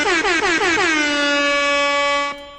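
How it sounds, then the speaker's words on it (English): A loud, sustained air horn blast opens with several rapid stuttering bursts, then holds one long blaring tone before cutting off. "I love the air horn."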